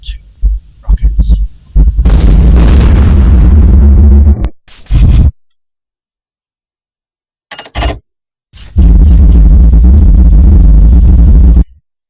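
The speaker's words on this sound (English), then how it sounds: "It shot 2 rockets." A badnik in the Sonic GDK video game firing rockets, heavy booming explosion blasts in three separate loud bursts with silent gaps between them, deep and rumbling.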